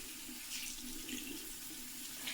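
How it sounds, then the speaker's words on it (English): Lukewarm water runs steadily from a tap into a sink before hand washing, a constant close splashing hiss with no break. "I'm going to try to open the water."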